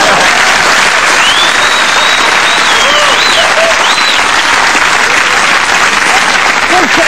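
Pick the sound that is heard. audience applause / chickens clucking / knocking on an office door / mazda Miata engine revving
audience applause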